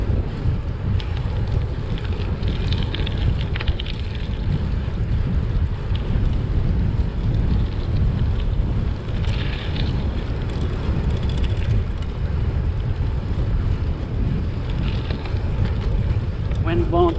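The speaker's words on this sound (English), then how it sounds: "wind's blowing pretty hard against me." Strong headwind gusts roar steadily across the microphone of a cyclist riding a Genesis Bohe gravel bike, a loud continuous low rumble with occasional buffeting bursts and no speech.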